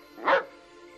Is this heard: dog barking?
yes